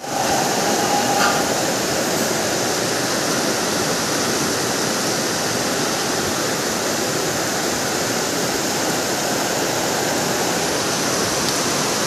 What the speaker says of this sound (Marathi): पावसाने मजबूत जोर पकडलाय